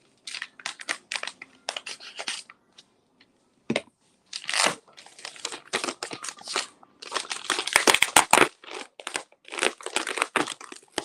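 Packing tape crinkles and rips as a comic book package is unwrapped, in irregular bursts of crackling and tearing with short quiet gaps between them, close and fairly loud.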